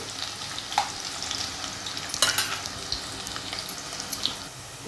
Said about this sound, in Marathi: हे बघा आता कांदो थोडंसं भाजून दे